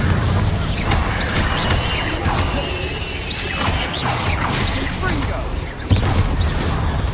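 Confringo blasting-spell explosions in Hogwarts Legacy, with repeated bursts, crashes and whooshes layered over busy combat noise, and a sharp hit near the end; a voice talks over the action.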